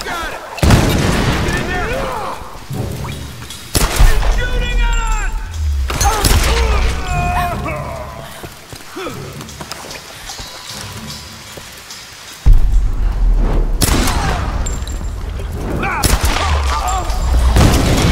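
Enemies open fire in the Tomb Raider video game. Loud, sharp gunshots and booming bursts strike at irregular intervals over a constant hiss like rain, with a voice speaking between the shots.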